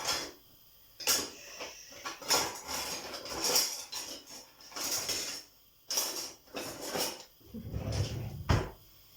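A wooden spoon taken out for stirring while liver is fried, heard as a string of close clacks, knocks and drawer or cupboard rattles in separate bursts with quiet gaps between them.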